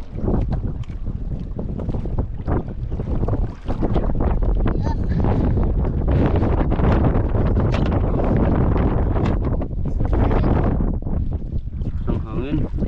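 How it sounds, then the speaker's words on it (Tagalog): Strong wind buffets the microphone at sea aboard a boat, a loud continuous roar with gusting surges throughout, while people shout and talk over it. "Ang hangin."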